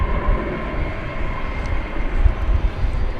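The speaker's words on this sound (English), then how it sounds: "There's the Spirit of Australia headed our way. It's a 7879 Dreamliner" Distant low roar of a Qantas Boeing 787-9 Dreamliner jet airliner approaching an airport at night, a steady broad rumble that swells slightly, heard alone without voices.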